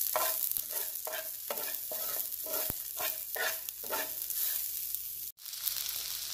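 Bell pepper rice with turmeric frying in a hot pan, a steady sizzle broken by a rhythmic series of stirring scrapes, close and clear, with no talk.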